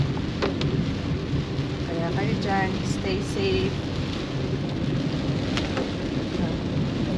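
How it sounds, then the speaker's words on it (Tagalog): Sudden heavy rain pours down steadily in Amadeo, with rumbling thunder beneath the dense hiss, while people talk briefly over the downpour. "biglang buhos na ng ulan."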